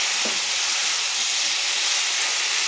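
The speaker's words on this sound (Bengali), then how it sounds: "কুলগুলো একটু ভেজে নিই হালকা করে" Jujube fruits frying lightly in hot oil for a pickle produce a dense, steady hiss of sizzling, loud and close, continuing unbroken for the whole stretch with no voices.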